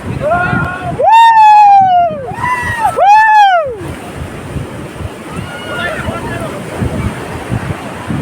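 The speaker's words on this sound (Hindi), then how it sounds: "समुद्र कूल" Loud ocean surf rolls onto a seashore with heavy wind buffeting the microphone, while rising, wailing tonal calls and voices sound over it in the first few seconds.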